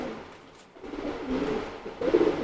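A male Teddy pigeon coos softly in low, murmuring tones, faint and close, against a background of other birds, with no talk.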